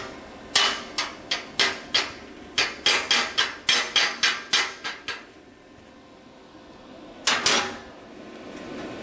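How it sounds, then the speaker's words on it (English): A chipping hammer knocks dross off a plasma-cut mild steel edge in a quick series of sharp, ringing metallic taps. A short pause follows, then two more strikes. "There's a little bit of dross on the cutting edge, but that's easily remedied with a chipping hammer"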